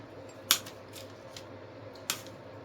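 Scissors snip artificial flower stems for a light arrangement, giving two sharp, quiet cuts about a second and a half apart over a faint background hum.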